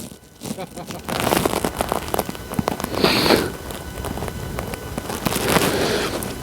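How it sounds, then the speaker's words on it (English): Rain patters and crackles on a tent in thick mist and fog, a dense irregular drumming of drops that swells in louder bursts, heard up close with no talking. "total mist and fog and a bit of rain"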